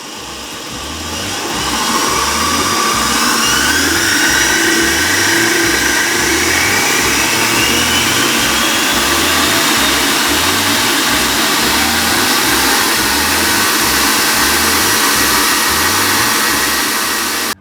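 A Kenwood kitchen machine (food processor/mixer) runs steadily at maximum speed, a loud continuous motor whine with a rhythmic low churning pulse, ramping up in the first two seconds and holding without speech.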